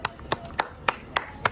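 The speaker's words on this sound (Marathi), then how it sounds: "आणि कार्तिक टाळ्या वाजवतोय" A person claps their hands six times at an even, brisk pace, each clap crisp and close, with faint background murmur between them.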